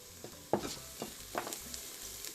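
Garlic sautéing in a pressure cooker on its sauté setting, with soft sizzling and a few sharp scraping stirs near the start and middle, close and moderately quiet.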